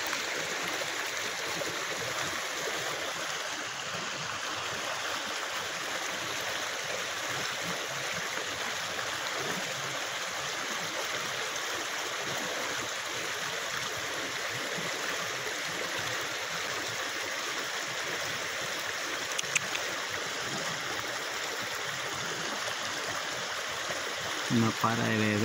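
A river crossed on the way to a farmhouse flows with a steady rushing, broadband wash where a horse stands drinking, with people talking faintly over the continuous water.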